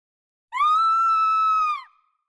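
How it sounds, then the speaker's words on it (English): A woman lets out a single piercing scream of terror, high and sustained for over a second, then cut off, alone against silence. "a piercing scream cut through the morning air, a sound of terror"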